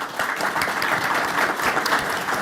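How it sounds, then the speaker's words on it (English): Audience at a geopolitics forum applauding panelists, a loud, continuous burst of many hands clapping close by, sustained evenly throughout. "Please join me in a round of applause for our panelists."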